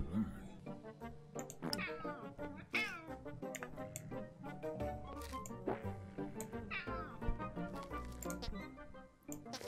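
A cartoonish cat meows repeatedly in the video game Crappy Climber, rising, wavering cries over busy game music and effects, with a voice talking throughout.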